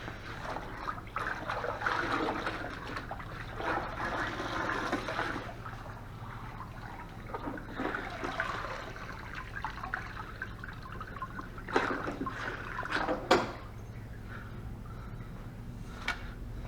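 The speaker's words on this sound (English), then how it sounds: "that means it's time to rinse the mop." A floor mop being rinsed in water, with steady trickling and dripping interrupted by a few louder sloshes near the end, close and fairly quiet, with no voices.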